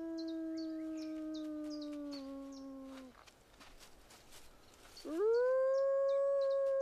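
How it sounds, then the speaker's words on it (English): Young wolves howling together in long, steady drawn-out tones, one howl fading out and another rising strongly after a short pause, with faint insect buzzing and chirps around them outdoors. "Every day, Shaun encourages them to practice their howls, just as they would in the wild."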